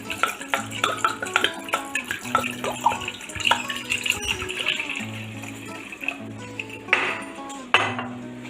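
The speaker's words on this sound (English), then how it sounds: "We are going to put water on it." Water goes onto pasta in a cooking pot amid metallic clinks and clatter of pan and utensils, with a splashing, pouring rush swelling near the end.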